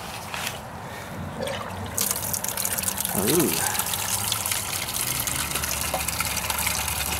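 Water and stale gasoline draining out of an old fuel tank on a mini excavator, a steady gushing, splashing flow that grows louder after a short pause, with a brief exclamation from a person nearby.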